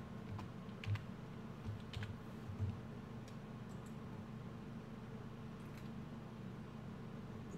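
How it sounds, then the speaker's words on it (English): Someone types quickly on a computer keyboard. The soft, faint key clicks run in irregular bursts over a steady low background hum, with no voices. "We'll just type that in here real fast."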